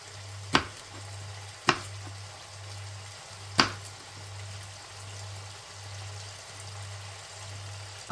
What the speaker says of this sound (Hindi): तो यहाँ मैंने आलू शामिल कर दिए। इनको थोड़ी देर भूनूँगी।